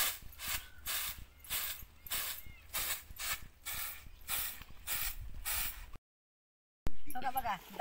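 Toor dal being ground the old way in a traditional stone hand mill (jaate), a rhythmic rasping rumble pulsing with each turn, steady and close, followed by a brief gap and a short burst of other sound.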